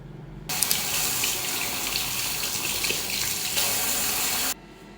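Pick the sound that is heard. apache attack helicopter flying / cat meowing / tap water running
tap water running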